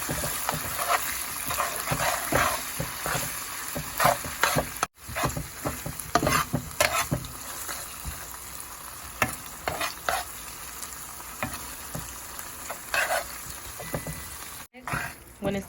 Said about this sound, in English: When it's in the pot, you stir it.